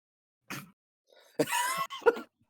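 Several separate coughs, one short burst, then a longer rasping cough and a sharp final one, close and clear against near silence during a tabletop role-playing session.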